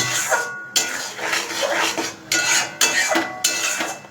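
Spiced meat with salt, turmeric and a pinch of sugar is stirred and browned in a pot, with a spoon scraping and clanking against the metal in uneven strokes under a steady background hiss.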